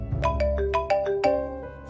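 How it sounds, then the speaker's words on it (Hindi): A bright electronic ringtone plays a quick melodic run of tones, alone and close, repeating its short tune without any voices. "फर्री का फोन"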